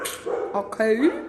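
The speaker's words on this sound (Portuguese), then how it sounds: "o cachorro tá latindo" A dog barks and yips close by in a short, excited burst, ending in a rising whine, while a person speaks over it.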